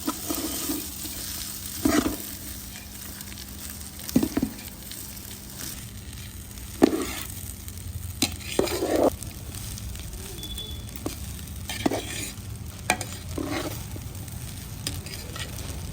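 Fried cauliflower and boiled rice are stirred in a hot pan for street-style gobi fried rice, a steady close sizzle broken by repeated scraping strokes of a spoon against the pan every couple of seconds.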